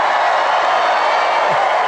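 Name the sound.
crowd cheering at a campaign rally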